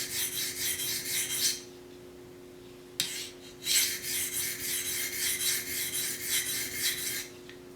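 A knife is sharpened freehand on a DMT coarse diamond stone with repeated rasping strokes in bursts, close and fairly quiet, with a short pause and a sharp tick partway through.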